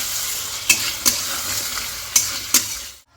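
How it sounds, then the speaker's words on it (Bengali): Tomato-sauce coating for chilli chicken frying in a pan, giving a loud continuous sizzle close up with a few sharp spoon scrapes against the pan before it cuts off. "এবার এই যে হালকা ভাজা ভাজা হচ্ছে"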